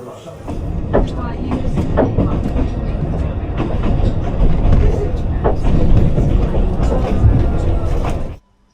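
A train on a Snowdonia mountain route rumbles along steadily with rhythmic clacks and rattles of the carriages, loud and close, continuing until it cuts off abruptly.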